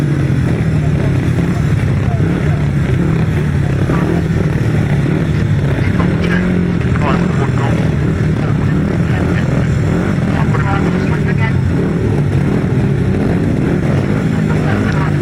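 250cc grasstrack racing motorcycles line up for a heat, their engines burbling and revving together in a loud, dense drone as a commentator's voice talks over them.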